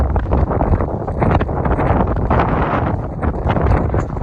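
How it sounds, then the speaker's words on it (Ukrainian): Strong wind roars steadily across the microphone, a dense continuous buffeting rush with no pauses, loud and close throughout. "Вітер дуже сильний вітер дує."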